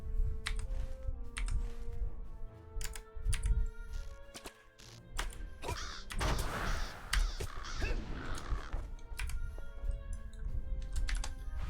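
Crebain crows in Lord of the Rings Online caw repeatedly in overlapping bursts, mixed with rapid keyboard typing clicks throughout, no talk.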